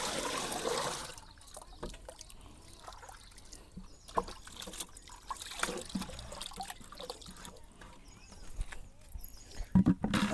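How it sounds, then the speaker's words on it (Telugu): Liquid jeevamrutham mixed with gram flour is poured from a bucket into a drum, splashing and trickling unevenly with sloshing bursts and dribbles. Water handling sounds continue throughout, and no one speaks. "శనగపిండిని కలుపుకున్న తర్వాత ఈ ద్రావణాన్ని డ్రమ్లో వేసేసుకోవాలన్నట్లు"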